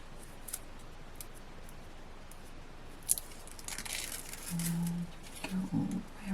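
Scissors snip through card from a craft magazine kit: a sharp click, then several short close cutting crunches in a quiet room.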